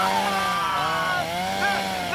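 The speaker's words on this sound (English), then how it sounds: "I told you to lose that chainsaw." Chainsaw engine running steadily at close range, a continuous buzzing drone with wavering pitch throughout, loud and alone without talk.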